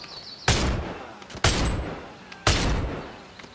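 Three loud Desert Eagle pistol gunshots from the Bonelab video game, evenly spaced about a second apart, each a sharp close blast with a ringing tail.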